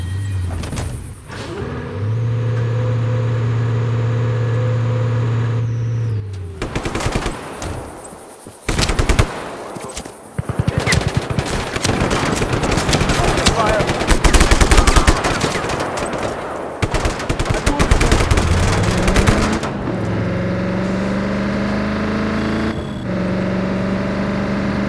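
Gunfire from the open-world action game Just Cause 3 comes in dense, loud machine-gun bursts and rattling volleys, with a steady vehicle engine hum before and after and heavy rumbling impacts.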